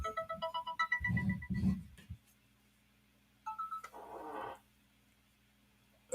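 A phone rings nearby with a repeating electronic ringtone pattern of tonal bursts, followed by low rumbling handling noise and a second burst of ringing.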